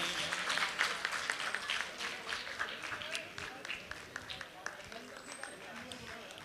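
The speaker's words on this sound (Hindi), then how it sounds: "इसलिए एक बार फिर से जोरदार तालियां बजाइएगा।" Audience applause at a Ramayan conclave, a dense patter of clapping hands filling the hall at moderate distance, fading slightly toward the end with scattered individual claps.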